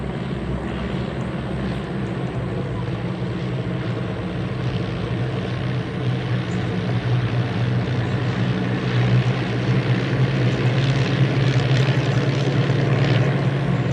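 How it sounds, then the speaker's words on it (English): Vintage aircraft piston engines in a flypast at the Duxford Battle of Britain Airshow in 2022: a steady, droning propeller roar that grows gradually louder as the planes approach. "These wonderful vintage engines"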